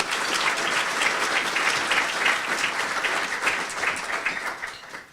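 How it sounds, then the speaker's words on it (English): Loud, sustained audience applause at a Chamber of Commerce luncheon meeting, many hands clapping in a dense, even roar that stays strong before thinning slightly at the end. "So let's give them all a round of applause."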